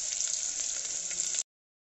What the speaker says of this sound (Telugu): సో ఆనియన్స్ మనకి బ్రౌన్ అయ్యేదాకా ఫ్రై చేసుకోవాలి.